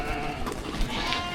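A flock of ewes and lambs bleats continuously and fairly loudly on a farm, the overlapping calls filling the whole stretch with no clear speech on top.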